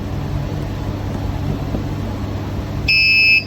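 A phone-locking Pomodoro study device gives a single short electronic buzzer beep near the end, rising over a quiet room hum.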